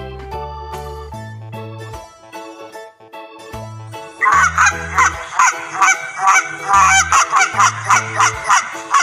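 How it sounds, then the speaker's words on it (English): A goose honks repeatedly, with sparse tonal calls early on that turn into a loud, rapid run of honks near the microphone for the second half. "Goose."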